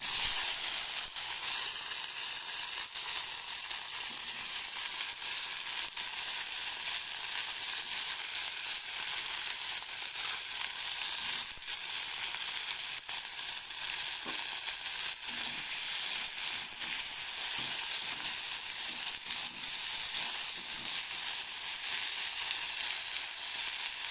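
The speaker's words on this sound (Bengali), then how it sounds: "তো তেলটা গরম হয়ে গেছে, এরপর আমি লাফাগুলো দিয়ে দেবো।" Lafa frying in hot oil in a wok, a dense, steady sizzle and hiss that holds evenly throughout with faint crackles and no talking.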